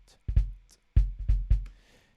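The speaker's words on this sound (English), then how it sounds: "I've just taken all of that sustain off." Tight, short kick drum hits with the sustain removed by transient shaping, plus crisp snare-like cracks in a quick pattern, each sound cut off fast with little ring afterward.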